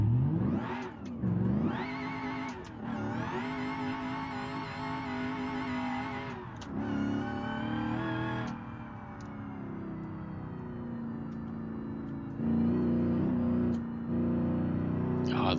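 A modded car engine in BeamNG.Drive, a Corvette C6 ZR1 or Mustang Dark Horse, revs hard in repeated rising and falling surges, then settles into a steady, droning cruise, loud and close.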